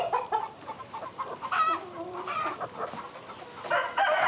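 Hens cluck and fuss in a farmyard, steady overlapping calls with a few louder squawks and a rooster-like crow, close and continuous with no talking.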